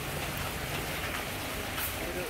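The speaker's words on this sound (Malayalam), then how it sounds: "നല്ല മൂടൽ മഞ്ഞും മഴയുണ്ട്" Steady rain with fog in hilly country near Munnar during a solo cycling trip, a dense even hiss of falling drops that stays constant and fairly loud throughout.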